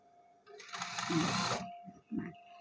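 A sewing machine stitches a garment neckline seam in a quick burst of rapid mechanical whirring, then stops, followed by a couple of soft handling thumps.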